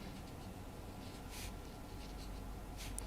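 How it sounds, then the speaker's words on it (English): Chalk or marker writing on a board during a heat conduction lecture: a few faint scratchy strokes, the clearest near the middle and end, over steady room hum with no talking. "Let me write that down."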